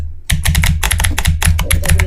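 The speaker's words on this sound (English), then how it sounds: "Here is spacebar." Computer keyboard keys, including the spacebar, clack in a quick irregular run of close, loud presses with no talking.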